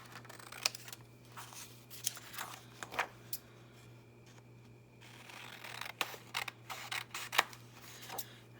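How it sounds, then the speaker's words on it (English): Scissors cutting paper into strips, a series of quiet crisp snips and rustles at an irregular pace, close and faint with no talk. "So we will just cut them into strips."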